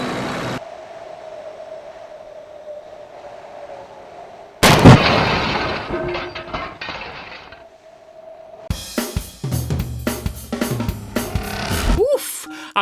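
Tank cannon shots in the video game Tonks ring out as a few sharp, loud blasts separated by quieter stretches, followed by a busier run of clattering impacts and bursts.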